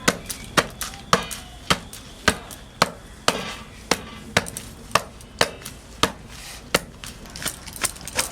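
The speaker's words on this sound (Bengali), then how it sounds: "এই গরম গরম এবার পিটাতে হবে।" Hot torn paratha beaten by hand on a griddle, a steady series of sharp, near slaps about twice a second, loud and regular with no talk.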